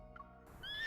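A horse neighs in the video game Love and Deepspace, a short close whinny rising into high squealing tones over a faint background, under a second long.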